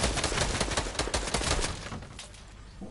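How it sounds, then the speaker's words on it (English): Rapid crackling bursts of fireworks exploding in an online duos video game, dense and continuous at first, then thinning and fading toward the end. "these fireworks are getting in my face"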